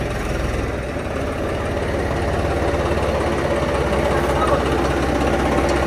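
A Royal Enfield Bullet motorcycle engine running steadily, a low, continuous thumping chug close by with a slight rise in loudness, without clear revving peaks.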